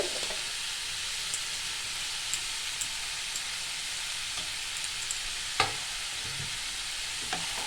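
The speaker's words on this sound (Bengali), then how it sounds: "এগুলো সব ভালো করে একটু নাড়িয়ে চাড়িয়ে নিতে হবে" Steady sizzling of onion frying in a pan for egg chowmein, with a few soft scrapes and knocks as it is stirred; continuous and fairly quiet, with no voices.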